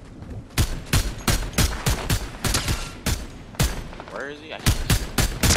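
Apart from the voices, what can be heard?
gunfire in the video game Fortnite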